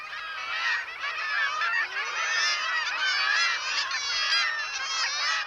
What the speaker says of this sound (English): The kittiwake breeding colony is one of the noisiest places on Earth